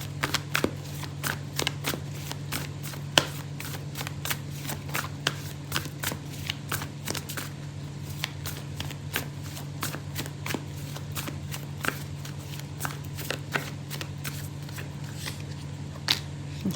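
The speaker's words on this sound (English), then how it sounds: "I'm gonna pull out an oracle card for you" Oracle cards being shuffled by hand, a long run of crisp, close riffling snaps at an uneven rhythm over a low steady hum, with no talking.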